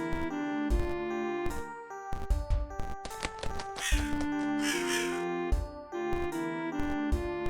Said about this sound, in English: Those sound like crows.